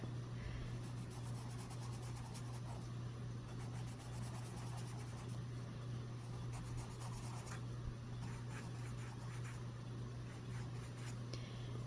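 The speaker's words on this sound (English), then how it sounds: "Prismacolor colorless blender." A Prismacolor colorless blender pencil rubs on paper in soft, continuous strokes over a quiet steady hum, faint and close.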